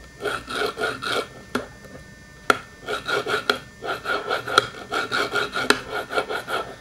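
Butta fingerboard wheels roll repeatedly over a wooden surface close by, giving a steady rasping, grinding rhythm of short strokes broken by a few sharp clicks and a brief pause. Nobody talks.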